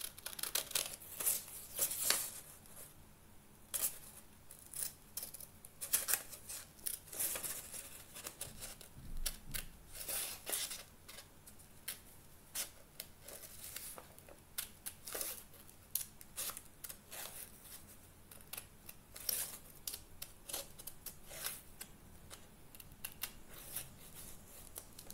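Scissors snip paper vampire teeth out for a monster bookmark, producing quiet, irregular crisp cuts and rustles of paper close by in an otherwise hushed room.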